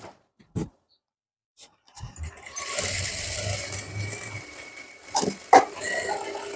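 A sewing machine runs in a steady stitching burst while sewing piping onto fabric, preceded by a few quiet clicks and handling noises, then some louder knocks and rustling near the end.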